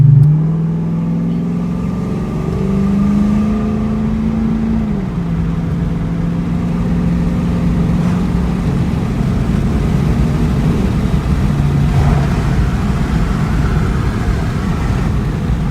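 A car fitted with a newly installed Stedda cold air intake accelerates down a road, a loud engine drone rising through gears with a shift-like dip early on, then a steady heavy rumble from inside the cabin.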